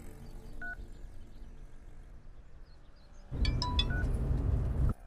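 A telephone being dialed, with a few short clear tones early on, then a louder burst of quick overlapping dialing tones against a busier background, ending abruptly.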